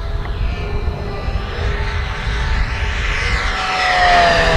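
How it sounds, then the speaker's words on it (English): An FMS Strega radio-controlled model airplane flies inverted with a loud, continuous whining electric motor and propeller buzz whose pitch shifts as it passes; no voices. "as I roll the airplane out on final here"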